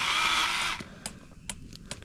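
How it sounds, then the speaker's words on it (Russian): A gasoline chainsaw cuts wood at a lakeside campsite, a loud steady whine for under a second, then quieter clicks and knocks as it stops. "взял бензопилу, давай там пилить"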